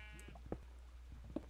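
A sheep in Minecraft bleats in two short, separate calls over a steady low game hum, fairly quiet and close.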